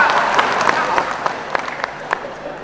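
An audience at an Indonesian public gathering claps in a loose, steady patter of many hands, moderately loud, with a voice speaking over it.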